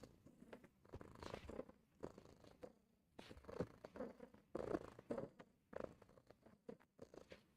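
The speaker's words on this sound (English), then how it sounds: "her purrs are so loud." A cat purs loudly and steadily up close while rolling on a rug, the rhythmic rumble rising and falling in waves with no talk over it.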